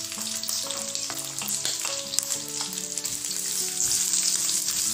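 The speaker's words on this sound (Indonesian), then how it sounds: "Ini digoreng sampai matang" Squid frying in a pan, with a steady, close sizzle and occasional stirring over a soft melodic tune.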